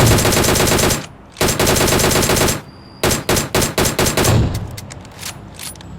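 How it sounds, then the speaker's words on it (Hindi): Gunfire in the PUBG Mobile video game on the Erangel map, with a loud continuous automatic burst, a pause, then a rapid string of separate shots fading to scattered pops. "डेविलेंस ने एक AWM चिपका दी उसके पीछे।"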